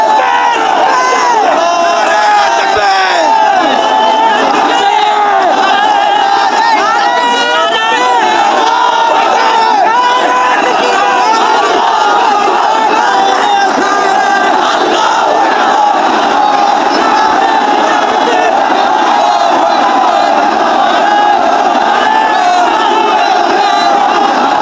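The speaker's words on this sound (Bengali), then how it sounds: "শুনতে পেলেন এখানে নবী প্রেমিকরা যারা বলছেন শুধু স্লোগান আর স্লোগান" A huge crowd of worshippers at an Eid-e-Milad-un-Nabi procession in Chittagong chants religious slogans in unison, loud, dense and continuous from start to end, with overlapping voices and shouts.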